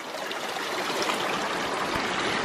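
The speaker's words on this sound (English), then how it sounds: "1-inch pipe comes out, travels down the creek, and feeds into the bucket. As you can see, it's overflowing quite nice here." Water pours steadily over the rim of a bucket fed by a one-inch pipe from a creek, supplying a ram pump; a close, continuous splashing trickle with no voices.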